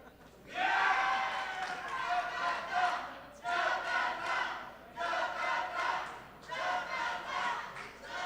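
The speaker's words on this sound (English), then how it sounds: "Jakarta cheering on." Jakarta supporters at an Asia Pool Challenge pool match in Manila, 2018, chant and cheer loudly in three rhythmic, rising bursts separated by short lulls, a full indoor crowd shouting in unison.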